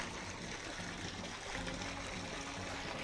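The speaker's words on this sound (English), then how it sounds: "It's very peaceful down here with the sound of the water" Water trickling in a garden koi pond, a continuous soft broadband wash of flowing water, steady and fairly faint, with no voices over it.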